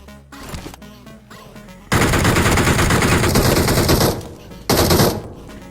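Bursts of rapid automatic gunfire in BGMI (PUBG Mobile), loud and sustained, with a short pause between the two long volleys and faint sounds before.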